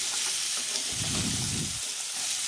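Potato and eggplant pieces frying in a pan, a soft steady sizzle with a thicker burst of frying noise in the middle, close and fairly quiet, no talking.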